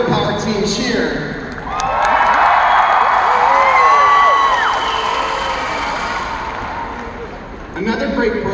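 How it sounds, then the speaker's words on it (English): A crowd of robotics competition teams at a world championship opening ceremony in Louisville breaks into loud cheering, whoops and shouts that swell and then fade before an announcer resumes speaking. "If you're a Girl Power team, cheer."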